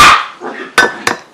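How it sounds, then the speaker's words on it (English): Dogs bark in a few sharp, loud bursts nearby, with clinking and rustling in between. "Sorry about my dogs in the background."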